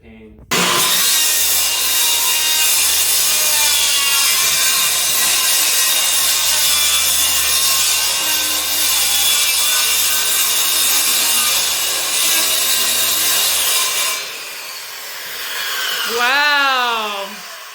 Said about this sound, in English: So now we're going to use the circular saw here, cut a few strips around the floor to kind of cut it up into smaller pieces